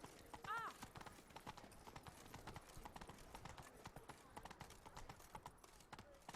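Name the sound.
horse Roach galloping in The Witcher 3 video game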